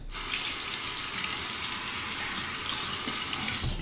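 Tap water runs steadily into a sink to rinse a single-edge safety razor during a shave, a close, continuous splashing hiss with no voices.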